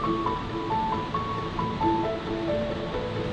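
Sipiso-Piso waterfall near Lake Toba gives a steady, distant rushing wash of water, continuous and even, with faint tonal sounds drifting over it.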